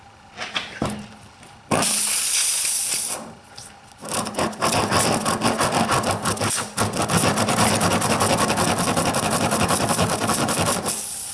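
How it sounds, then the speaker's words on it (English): A reamer tool is worked into a tire puncture, giving close, gritty rasping and scraping strokes in bursts, after a few faint knocks. "Slide the Reamer tool in and let it sit on it."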